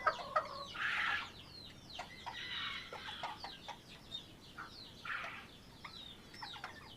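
Old English game chickens, hens and roosters including black, blue and silver duckwing birds, cluck repeatedly in a yard, a string of short calls at moderate distance over quiet background.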